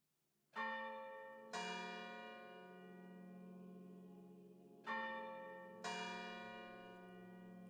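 Deep bells ring in four separate strikes, each one rich and resonant and left to hum and fade slowly. The strikes come in two pairs with a long pause between them, sounding quiet and somewhat distant, with no talking.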